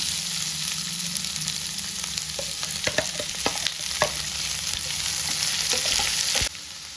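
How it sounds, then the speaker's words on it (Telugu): Cut onions fry in a kadai, giving a steady, close sizzle throughout. Occasional clicks and scrapes of a stirring spoon sound over the hiss, with no one speaking. "ఇదే కళాయిలో ఆనియన్స్ కట్ చేసుకున్నాం కదా అవన్నీ దీంట్లో వేసుకోవాలి"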